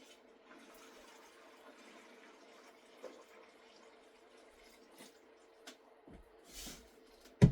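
Hot water pouring and trickling quietly into a container over a low hum, with a few soft knocks and a louder splash near the end, for mixing clay for pottery damp boxes.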